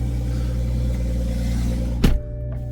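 A 425-horsepower Toyota Supra Launch Edition idles with a steady low hum inside the cabin, then gives one short, sharp rev that quickly falls back to idle.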